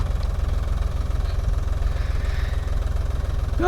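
A tractor engine chugs low and steady at idle with a regular thumping pulse on a farm near a well, close and continuous throughout, no voices.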